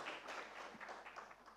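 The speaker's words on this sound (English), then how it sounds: "That audience, I think, can be more generous with their clapping." Brief scattered applause from an audience at a financial literacy quiz, a light, moderate patter of clapping lasting only a moment.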